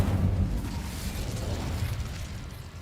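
An Incendio fire spell bursts in Hogwarts Legacy, a loud whooshing blast at the start that rolls into a fading rumble of flame over a few seconds, with no talking.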